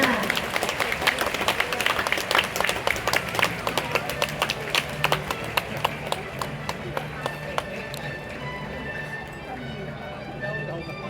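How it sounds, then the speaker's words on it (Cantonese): Audience applause at a kindergarten graduation ceremony, dense rapid clapping from a crowd in a hall that gradually thins and fades, with a voice speaking over it. "再次俾多啲掌聲小朋友啦"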